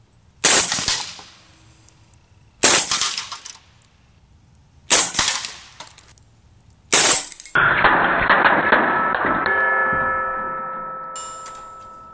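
A Hatsan Blitz .22 PCP air rifle shoots four sharp, loud cracks roughly two seconds apart, then a longer ringing burst of rapid full-auto fire that decays slowly.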